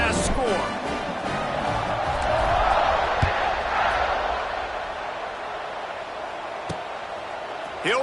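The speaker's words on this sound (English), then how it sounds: "this crowd is buzzing after that last score" Stadium crowd noise from an Ole Miss vs Auburn college football video game, a steady broad roar sustained throughout after a touchdown, running under commentary with a couple of brief sharp accents.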